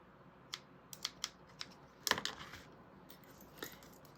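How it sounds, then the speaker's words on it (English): Scissors make small snips in a fabric pattern piece for a sewn bag, producing a quiet series of sharp, irregular clicks with a brief cluster of cuts in the middle. "I'm gonna throw a snip on the bottom of this piece as well."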